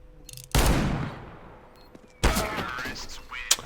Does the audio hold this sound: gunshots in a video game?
yes